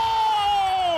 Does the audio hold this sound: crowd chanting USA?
yes